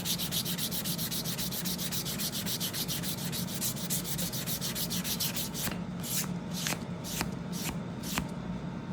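Steady rubbing and sanding of a leather edge being burnished, a continuous dense scrubbing texture that turns into separate quick strokes toward the end, close and fairly loud with no talk.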